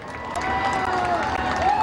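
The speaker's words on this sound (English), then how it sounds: "let's have a big, big round of applause for our late model feature winner tonight" Crowd at Midvale Speedway applauds and cheers for the late model feature winner, steady clapping and cheering with a voice over a loudspeaker sounding across it.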